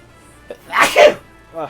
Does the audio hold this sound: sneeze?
yes